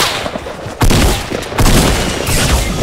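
Shotgun blasts in a video game, two heavy booms about 0.8 seconds apart landing hard and loud, followed by a dense rattle of gunfire and rumbling that carries on through the rest of the moment.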